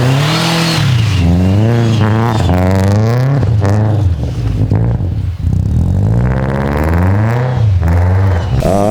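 A loud 600-horsepower all-wheel-drive Subaru STI engine revs repeatedly, rising and falling in pitch in several strong pulls, close by and continuous throughout.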